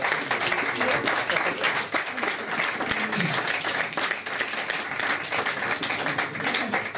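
An audience at a drag show gives sustained, dense applause that stays loud and even for several seconds, with a voice briefly heard beneath it.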